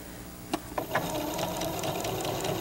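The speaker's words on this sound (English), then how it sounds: "So it's just sort of edge stitching this and getting as close to it as you can so that nothing shows" A sewing machine runs steadily in a continuous straight-stitch whir as it edge-stitches close to the border of wrinkled fabric, with a few sharp clicks near the start and no talking.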